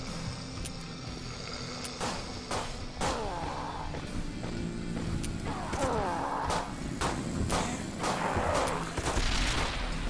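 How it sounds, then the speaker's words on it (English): Automatic weapon fire from a machine gun in the game Dead Sky, sounding as sharp repeated bursts of shots over a dense, busy backdrop of battle noise, with thuds and impacts scattered throughout the stretch. "Why wouldn't I take that machine gun?"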